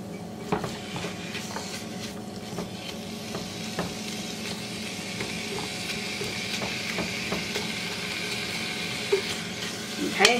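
Lasagna filling sizzles steadily in a pan on a stovetop while a spoon stirs it, giving a continuous frying hiss with occasional scrapes and clinks against the pan.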